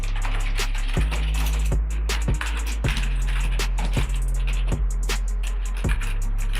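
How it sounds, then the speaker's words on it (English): Keys clacking on a Logitech MK240 wireless keyboard, a steady run of crisp, close taps at an irregular typing rhythm over a constant low hum, with no talking. "I can typing here, and the keys are very responsive"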